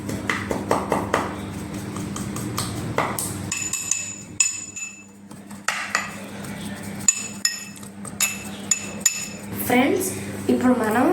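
Tamarind being pounded in a mortar for homemade lollipops, irregular hard metallic and stony knocks and clinks, close and loud, with pauses between bursts.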